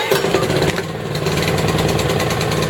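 Portable gasoline generator, with the choke on and economy mode off, starts and settles into a steady, loud engine drone that runs continuously throughout.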